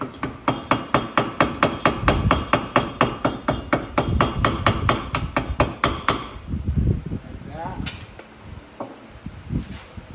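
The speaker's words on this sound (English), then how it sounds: "you get your key, you hammer it back in" A rapid series of sharp metallic hammer strikes driving a key into a flywheel on a Predator 212 engine, in a steady rhythm, close and loud, then slowing to a few scattered taps and clinks.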